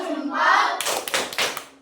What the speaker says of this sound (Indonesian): Kasih tepuk jempol ke Mbak Hansa. Tepuk jempol.